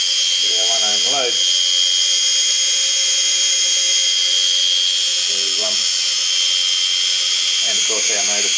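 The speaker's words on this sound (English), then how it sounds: "And of course our motor sped up." A steady high electric motor whine runs throughout a rotary transformer test, with a voice breaking in briefly over it at the start, middle and end.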